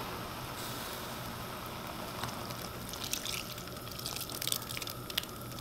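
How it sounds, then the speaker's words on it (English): Milk pours steadily into a soup pot, a soft continuous splashing with faint dripping and light clinks, fairly close and without talk. "Now we're going to add a little bit more milk."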